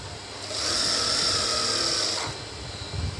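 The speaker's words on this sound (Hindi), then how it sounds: "इसकी ये साइड की सिलाई लगानी है" Sewing machine running steadily while stitching the side seam of a small baby trouser, a continuous close whirring hum that holds for under two seconds and then stops.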